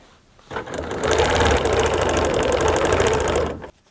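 A sewing machine runs in one continuous burst while quilting square box shapes along a ruler, starting after a short pause and humming with rapid needle chatter at close range before stopping abruptly.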